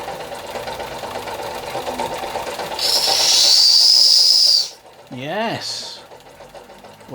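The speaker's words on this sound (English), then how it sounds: "Let's see if the whistle works." A Doll & Co No. 56 1/2 model steam engine's whistle lets out a shrill, hissing blast of about two seconds over the engine's running clatter, followed by a short spoken reaction and a brief second toot.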